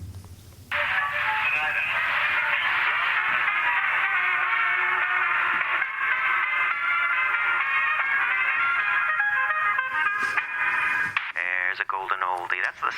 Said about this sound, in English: I wonder if I can get anything on the radio.